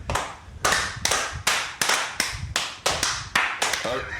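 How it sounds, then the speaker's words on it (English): Loud hand claps repeat in a steady rhythm, about ten sharp strikes roughly every 0.4 seconds, close and prominent with faint voices underneath. "He's got a mean clap."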